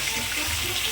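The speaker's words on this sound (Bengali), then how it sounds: "ওখানে সবজিটা ধোয়া হচ্ছে" Steady running water from a tap splashes as vegetables are washed in a home kitchen, a brief continuous hiss with no talking.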